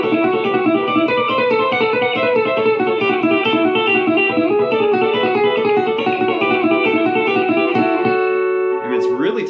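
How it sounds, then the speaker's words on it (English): An electric guitar plays a fast staccato country lick through a delay effect, bright bouncing repeated notes ringing continuously, close and loud, with a short scrape of noise at the end. "when you kick that delay back on and play it very staccato, it just bounces and jumps to life."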